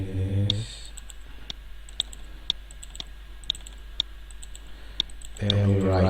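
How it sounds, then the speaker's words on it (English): A computer mouse clicks several times in a sparse, irregular rhythm, each click short and crisp, with a voice speaking briefly at the start and end. "Then we right click"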